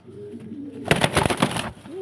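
Pigeons coo at a large pigeon farm in Faridpur, giving a near, throaty rolling burst in the middle of a short stretch of quieter background murmur.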